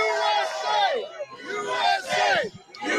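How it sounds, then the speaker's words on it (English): Crowd gathered at a Trump rally in Pennsylvania, with loud shouting and chanting voices up close, rising and falling in bursts that come across as rowdy cheering from nearby people. "We've got a great crowd."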